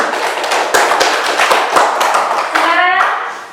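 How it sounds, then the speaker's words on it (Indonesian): A classroom of students clapping together, a burst of close, loud, uneven hand claps that lasts about three seconds, with a few voices mixed in near the end. "Tepuk tangan dulu."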